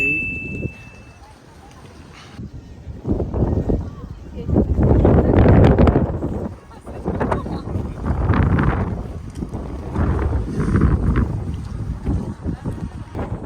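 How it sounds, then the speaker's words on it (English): Strong gusting wind by the sea in Hong Kong, heavy roaring buffets rising and falling against the microphone, with a person talking through parts of it. "Oh my god, it's super windy. It's so windy right now."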